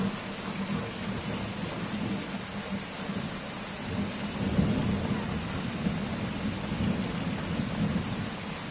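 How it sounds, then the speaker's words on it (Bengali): Steady rain pours onto a tin roof in a dense, continuous patter, with a low rumble of thunder underneath throughout; no one speaks. "টিনের চালের উপরে বৃষ্টির ফোঁটা"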